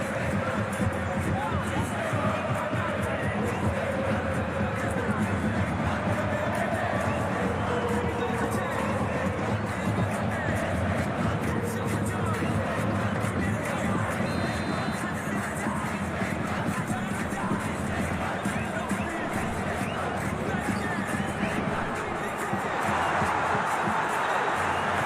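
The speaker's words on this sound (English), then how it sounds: "Crowd calling for him to shoot." A football stadium crowd at a cup semi-final roars and chants in a continuous dense wall of noise, calling for a player to shoot, with a commentator's voice running over it throughout.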